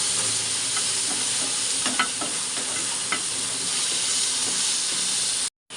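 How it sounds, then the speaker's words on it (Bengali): Onions sizzle loudly in hot oil with black cumin, a steady dense frying hiss running throughout, with light scraping stirs over it and a brief cut near the end. "পেঁয়াজগুলো ছেড়ে দেবো। পেঁয়াজটা কিছুক্ষণ নাড়াচাড়া করে নিচ্ছি।"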